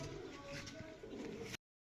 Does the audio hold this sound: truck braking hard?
no